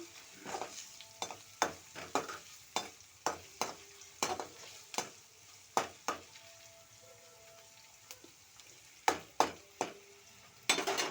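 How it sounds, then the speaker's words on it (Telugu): Ingredients frying in a pan while being stirred: a low continuous sizzle punctuated by a long run of sharp, regular scraping and clinking strokes of a spoon against the pan, close and clear. "మంచిగా ఫ్రై అయ్యే వరకు కలుపుతూ ఫ్రై చేసుకోండి"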